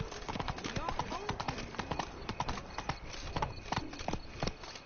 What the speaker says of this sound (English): Whoa there, Roach.